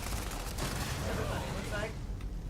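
Gunfire in the Starfield video game, a dense, noisy burst of shots and blasts filling the short stretch at moderate loudness, with no clear talk over it.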